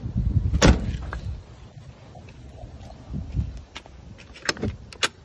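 Door of a Toyota Chinook camper with an LS engine swap opens and closes: a sharp thump near the start, then quieter rattles and a few crisp clicks and latches toward the end, close by with no talk.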